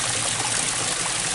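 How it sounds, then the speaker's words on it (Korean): Water pours down a small waterfall in the Jangyongsan mountain valley stream, a steady close rushing and splashing that stays even throughout with no voices. "미니 폭포 물이 잘, 44초 물이 안 마르고 흐른다고 합니다"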